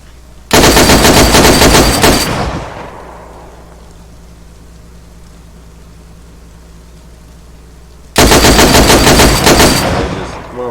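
Two loud close bursts of automatic gunfire during a base raid on a gated base in the video game DayZ, each lasting about two seconds, separated by a quiet stretch of low ambient rumble.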